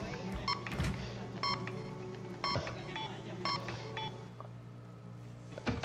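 A video game terminal gives off a series of short electronic beeps at an uneven pace. They repeat over several seconds against a low steady hum.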